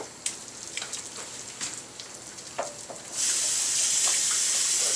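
Kitchen tap water running while something is washed off during beef stew preparation: a few faint clinks and drips, then the faucet opens and a loud steady rush of water pours continuously.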